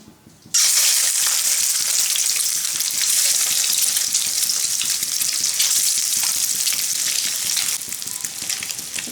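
Beaten egg whites hit hot mustard oil in a wok with a sudden loud burst of sizzling that holds steady and bright, then eases slightly near the end; no one speaks over it.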